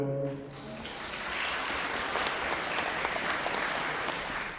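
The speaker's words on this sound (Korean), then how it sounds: "하객 여러분께서 다시 한번 힘찬 박수 부탁드리겠습니다." Wedding guests in a hall applaud the bride's entrance with warm, sustained clapping, a dense wash of applause that swells after a brief musical tone and continues evenly under faint background sound.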